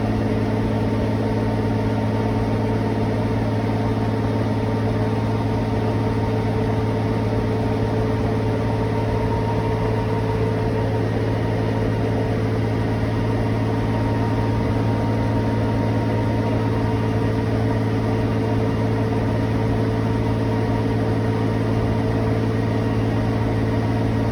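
Bell 47 J helicopter's piston engine idling steadily on the ground during pre-flight checks, a continuous low droning hum with strong steady low tones, close and unchanging throughout with no talk.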